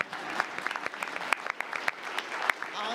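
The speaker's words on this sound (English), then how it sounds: "Round of applause." Applause at a Tallahassee city commission meeting, a steady patter of clapping with sharper individual claps standing out, moderately loud and close, with no talk over it.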